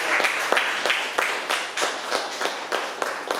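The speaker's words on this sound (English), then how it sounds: "Please give a round of applause" At a Toastmasters club session, a small group claps in a round of applause, the individual claps distinct and loosely rhythmic, close and moderately loud throughout.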